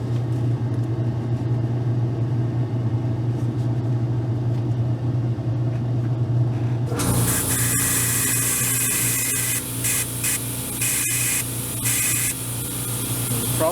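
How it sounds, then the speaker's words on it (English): An airbrush blows air back through Paasche paint in the cup to stir it, starting as a low hum and then bursting into a loud, steady hiss with bubbling for the second half. "when you try and do this method of stirring it, blowing the air back through, it bubbles up"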